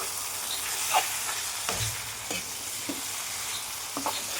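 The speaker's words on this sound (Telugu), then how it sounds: "చికెన్ పీసెస్ అన్నీ ఇందులో వేసేసుకుందాం." Chicken pieces frying in plenty of oil with onions for a curry, a steady sizzle broken by occasional scraping stirs, close and alone without talk.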